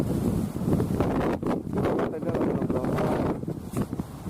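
Wind buffets the microphone on Mount Lawu's Cemoro Kandang trail, a loud rumbling gusty roar with a person talking over it.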